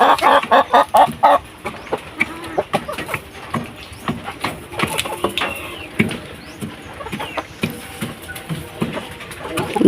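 Hens cluck around a feeding spot, with a burst of loud, close clucking at the start and then scattered softer calls and pecking noises over a steady background.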